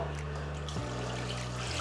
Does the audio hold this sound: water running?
yes